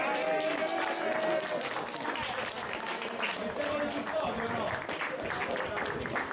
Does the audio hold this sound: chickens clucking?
no